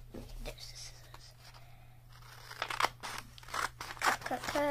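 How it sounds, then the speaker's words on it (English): Scissors cutting folded paper while making a squish fidget, several quick crisp snips in a row close up, with soft paper rustling between them. "Then we just have to cut it. There's the scissors."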